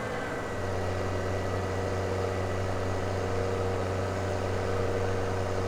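Tractor engine driving in the video game Farming Simulator 17, a steady low droning motor with a constant hum, loud and unbroken, with no talk over it.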